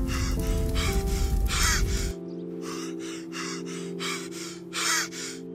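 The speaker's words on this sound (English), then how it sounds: "Why are you breathing like that?" Heavy, rhythmic gasping breaths from a character in GTA 5, repeated about eight times and close, over a droning score that drops out partway through.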